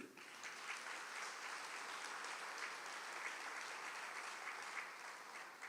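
A church congregation at Fr. George Panackal's sermon claps hands in an even, sustained patter, heard faintly from a distance without any talk.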